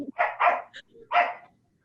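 A dog gives a few close barks and yips in quick succession, with no talking over them, then falls quiet.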